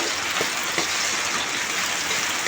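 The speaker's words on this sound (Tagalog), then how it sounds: "Ang lakas ng ulan dito guys." Heavy rain pours steadily in Magsaysay, Occidental Mindoro, a dense continuous hiss of water drumming on surfaces with a few louder drips, no voices.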